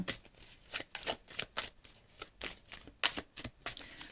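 Tarot cards being shuffled and handled close up: a quick, soft run of riffling and flicking card slides, fairly faint and continuous, with crisp little snaps scattered through.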